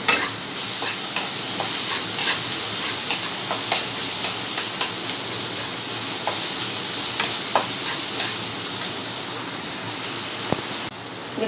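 Besan (gram flour) frying in oil in a pan for paneer bhurji gives a steady hiss of sizzle, speckled with small scattered pops and ticks throughout.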